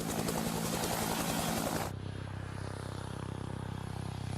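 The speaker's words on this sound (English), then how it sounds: "the first thing you hear from a helicopter is the sound of the wake from the main rotor" Helicopter main and tail rotor wakes interacting, a loud continuous rotor drone with a rhythmic low beating that drops abruptly to a quieter, smoother hum partway through.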